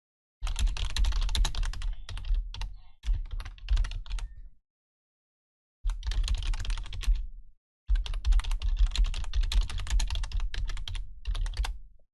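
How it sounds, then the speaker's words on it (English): Rapid, heavy typing on a computer keyboard, keys pounded in dense bursts with two short silent pauses between them, close and clear with no talk. "You'll have to forgive the pounding on my keyboard."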